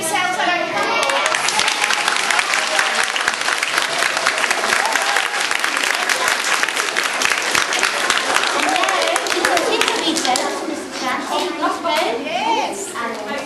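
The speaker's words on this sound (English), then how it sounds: "Give yourselves a round of applause." A school assembly audience, children included, applauds at a retirement assembly. The clapping is loud and sustained for over ten seconds, then eases slightly near the end, with a few young voices mixed in.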